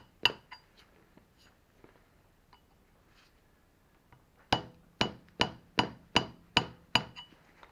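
A hand scraper strikes a metal surface to flake a frosting pattern: a couple of sharp isolated taps, a quiet pause, then a run of eight evenly spaced, ringing metallic hits, close and clear with no talking.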